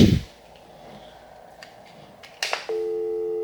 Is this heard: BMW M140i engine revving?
no